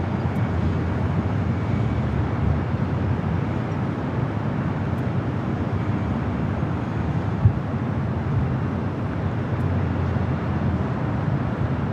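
An Air France Boeing 777 produces a steady, broad roar that holds evenly from start to finish at an airport, continuous and fairly loud with no voices.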